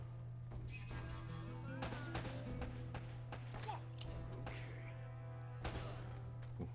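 Sharp gunshots crack repeatedly in a firefight in Uncharted: Drake's Fortune, one of them a headshot, over a constant low game hum with a voice talking now and then.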